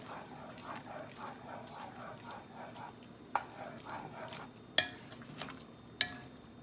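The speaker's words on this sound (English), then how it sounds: "I'm just stirring it really hard right now just to bring down the temperature." A simmering pasta sauce is stirred hard in a pan. Quiet repeated stirring scrapes run through it with a faint bubbling underneath, and a few sharp utensil knocks come near the end.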